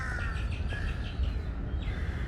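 Birdsong in Lumpini Park, Bangkok, thought to be an Asian sparrow, during an early-morning walk: repeated chirps and whistled calls at moderate distance over a steady hum of city and park background.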